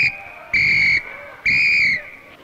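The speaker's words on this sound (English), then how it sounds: "when they blow the whistle three times" Two loud, sustained shrill whistle blasts, each about half a second long, sounded close with a short gap between them, as a signal before a record is played.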